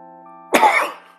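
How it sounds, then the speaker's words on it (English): A single close, harsh cough bursts out after a moment of near silence over faint game music, then fades quickly. "Needed me coughing here."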